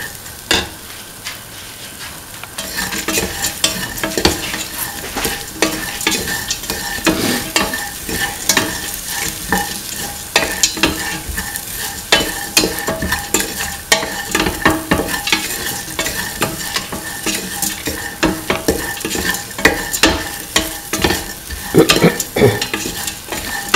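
Curried split chickpeas and ivy gourd with coconut milk are stirred in a sizzling pan, a busy run of scraping spoon strokes over continuous frying noise.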